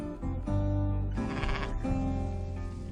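Several sheep bleat loudly and close by on open rangeland, overlapping calls rising and falling over about three seconds with no other sounds.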